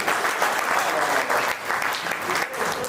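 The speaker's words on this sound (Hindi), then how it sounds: "आप अपने लिए एक बार जोरदार तालियां बजाइए" Dense audience clapping fills a large pandal at a Hindi comedy poetry gathering, a brief, steady burst of applause with no voices over it.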